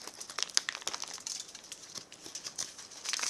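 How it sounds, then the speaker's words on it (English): Cling film peeled off a block of clay, crinkling and crackling close up in quick irregular bursts of plastic rustle. "I've wrapped it up in cling film to keep it fresh. So I'm just going to unwrap it"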